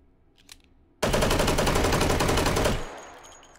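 Firing in the VR shooting game Hot Dogs, Horseshoes & Hand Grenades, a loud, dense burst of rapid shots lasting nearly two seconds after a quiet start, then a fading echo.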